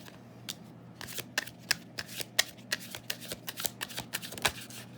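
Tarot cards being shuffled and drawn make a string of crisp, irregular flicks and slaps, close and fairly quiet, with a steady low hum underneath and no talking.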